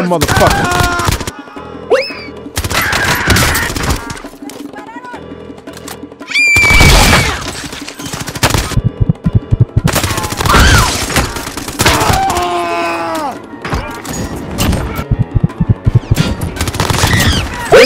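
Rapid bursts of OTS 9 submachine gun fire in Warzone, loud and close, come in repeated volleys broken by short pauses, with thumps and other game effects mixed in.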